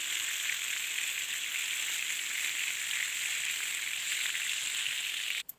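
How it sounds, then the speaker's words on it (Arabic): Food fries in a pan during Ramadan feast cooking, making a constant bright sizzle at moderate volume with a brief clatter at the very end. "بحمر الكميه كلها الاول كده اللي عندي"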